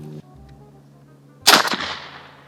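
A single gunshot cracks sharply and loudly after a brief quiet mechanical click, its report decaying quickly into a short ringing tail.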